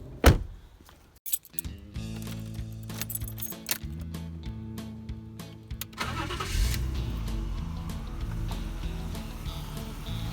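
Keys jangle and a door clunks before a BMW E34 car engine cranks and fires up; it settles into a steady, close running rumble for the last few seconds.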